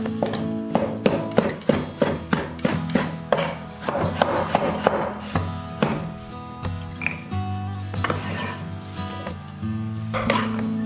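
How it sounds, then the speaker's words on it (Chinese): A knife slices shiitake mushrooms on a cutting board in steady, repeated knocks, close and crisp, keeping an even chopping rhythm throughout with no talking. "香菇切成片"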